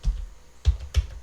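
Three separate taps on a computer keyboard while a date is entered into an Excel cell, each a short dull thump with a click, close and evenly spaced, no voices.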